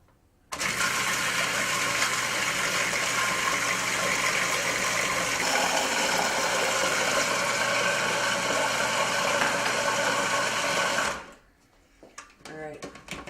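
A food processor motor whirs steadily and loudly for about ten seconds while olive oil is drizzled in for a lemon-anchovy sauce, then cuts off abruptly, leaving brief handling clatter.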